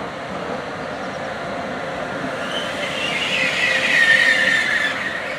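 A train rolls through Hegyeshalom railway station, a steady loud rumble that swells toward the end with a thin metallic squeal from the wheels on the rails.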